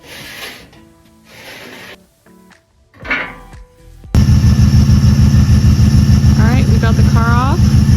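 A car engine runs loud and steady at close range as the car is driven off a trailer, after a few seconds of quieter rustling and knocks.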